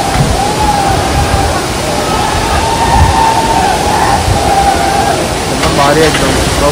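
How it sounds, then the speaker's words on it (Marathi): Waterfall at Bhandardara in Maharashtra, a loud constant rushing roar of falling water filling the scene, with someone talking over it. "इथून एक वॉटरफॉल, नानी वॉटरफॉल"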